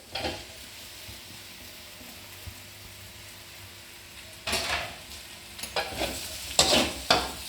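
Chopped fried eggs tossed into a hot pan for egg pepper fry, a low steady sizzle at first, then loud clattering stirs and scrapes of a spoon against the pan in bursts near the end.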